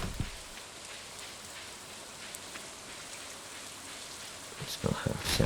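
Steady in-game rain falls in Stardew Valley, a soft even hiss of drops on surfaces that runs throughout, with a few louder patters and thumps near the end.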